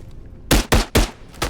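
Gunfire in the VR game Into the Radius 2: four loud, sharp shots in quick succession, each a close, punchy crack with a short decaying tail.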